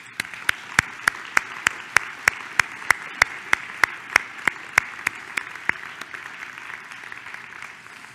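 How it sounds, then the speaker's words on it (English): Audience applause after a presidential address at a scientific society meeting, a soft continuous patter of many hands under one loud, evenly spaced clap repeating about three times a second before stopping. "Okay, we can go ahead and applaud now."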